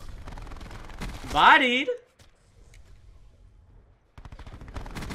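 MicroMG 9mm fires rapid bursts in Black Ops 4, loud crackling volleys at the start and again near the end, with someone speaking briefly between them.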